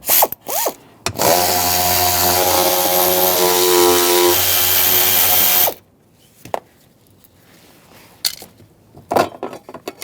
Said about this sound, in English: I'm just going to use a 10mm socket.